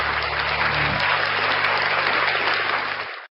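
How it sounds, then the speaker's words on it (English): A crowd's round of applause, dense steady clapping close and loud for about three seconds before cutting off abruptly. "Round of applause for NCR News Network."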